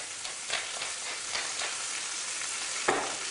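Ingredients are stirred together in a hot sizzling pan while cooking a roast loin of lamb dish with pumpkin pickle; steady frying hiss runs throughout, with soft scraping stirs and a sharper clatter near the end.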